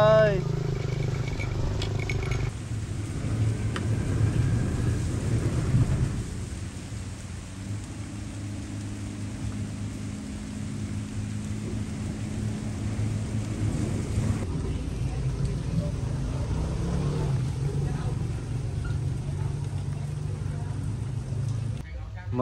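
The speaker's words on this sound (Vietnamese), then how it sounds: "Mưa lớn luôn mọi người ơi, thua rồi." Heavy rain pours steadily at an outdoor fishing spot while thunder rumbles, a dense, loud wash of rainfall that continues throughout with deep booms rolling underneath.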